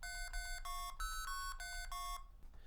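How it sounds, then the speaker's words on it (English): Multi-frequency phone switching tones from an Arduino-built blue box: a rapid sequence of about seven clear, steady two-tone beeps at changing pitches, loud and close, with no talk. "it plays what are known as EMF tones or multi-frequency tones"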